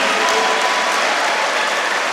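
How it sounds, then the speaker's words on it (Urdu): Children clap at a Kashmir Day rally in a dense, steady burst of applause that stays loud and even throughout, with no voices standing out. "مشال ملک صاحبہ اے بچے تے ویسے تالیاں بجا رہے ہیں"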